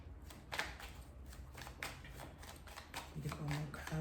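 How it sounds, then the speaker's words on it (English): Tarot cards being shuffled in repeated soft riffling bursts, close to the microphone, with a quiet voice murmuring faintly underneath. "Keep shuffling."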